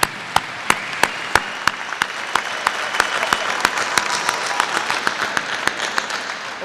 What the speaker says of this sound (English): please give a great round of applause to all of our proud alumni this evening